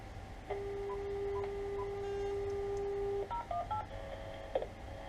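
A telephone keypad dials a directory service number: one long steady tone, then a quick run of short DTMF beeps, clear and close in a quiet room.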